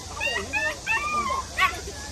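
A litter of pedigree Belgian Malinois puppies at a crowded sale gives out high, thin whimpers and short yips in repeated bursts, close by, over faint background murmur.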